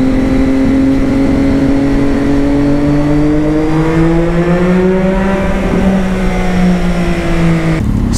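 A Lamborghini engine revs loud and close, its pitch rising steadily over several seconds before dropping off abruptly near the end.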